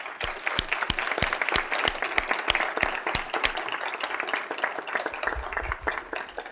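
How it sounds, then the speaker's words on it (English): An audience at a legislative coffee event in Sioux Falls applauds its elected officials with steady, moderately dense clapping, distinct individual claps standing out over several seconds. "Let's give our elected officials a round of applause."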